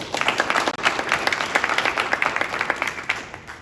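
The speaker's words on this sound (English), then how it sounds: "Give her a round of applause." An audience at a university panel on Nina Simone applauds, a dense burst of close clapping that holds steady for a few seconds before tapering off.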